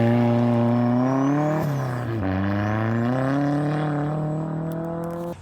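A car with a straight-pipe exhaust and the muffler removed drones with a throaty, steady engine note, briefly dipping as revs shift near the middle before holding a constant pitch, close and alone with no talk.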